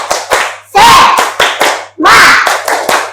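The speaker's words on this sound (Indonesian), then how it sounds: "kita tepuk semangat dulu lah sebelum kita mulai materi kita." A school class performs a rhythmic spirit clap in unison, with sharp clustered hand claps in a patterned beat broken by two loud group shouts, recorded close and loud.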